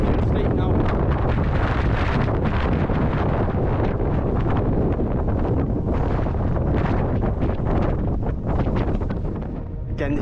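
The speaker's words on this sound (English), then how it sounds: "Oh, it's windy." Strong wind buffets loudly and continuously, roaring across the whole clip, on the way to the summit of Beda Fell.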